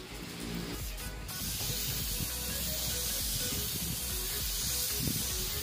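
Airbrush pen brush spraying paint over masking tape during a graphic painting job, a steady close hiss that continues unbroken throughout with no talk.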